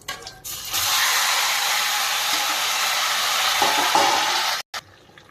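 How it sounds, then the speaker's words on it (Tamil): Boiled cassava added to a pan of hot tempering oil with curry leaves, giving a loud, steady frying sizzle that holds for several seconds before cutting off abruptly. "அதுக்கப்புறம் நம்ம கிழங்கு வேக வச்சு கிழங்கு எடுத்து போட்டுருவோம்."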